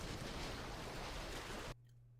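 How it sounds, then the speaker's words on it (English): Water washing and surging in a 2008 video game, a broad steady rush of waves that cuts off abruptly near the end, leaving only a faint low hum. "The splash, the waves, the consistency of the water."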